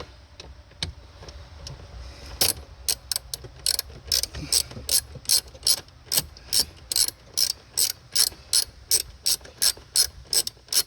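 A ratchet with a socket turns a screw under the dash of a Pontiac Torrent, giving a rapid series of close, crisp clicks in a steady rhythm that picks up after a few quieter ticks.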